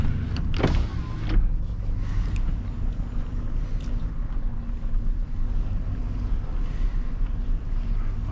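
A car backing up slowly, a steady low engine rumble with wind noise throughout and a few brief knocks near the start, no voices.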